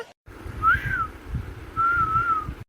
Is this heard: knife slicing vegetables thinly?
no